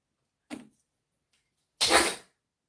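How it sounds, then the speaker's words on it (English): An angry dog sneezes twice nearby indoors, a short snort followed by a louder, longer explosive sneeze, with no talking. "When he's angry, he always sneezes like crazy."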